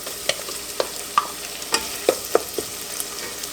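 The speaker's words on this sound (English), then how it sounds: "I'm going to stir it up very quickly." Chopped shrimp stirred quickly in a hot pan with the heat off, giving a handful of distinct spoon scrapes and taps over a soft, low sizzle, close and fairly quiet.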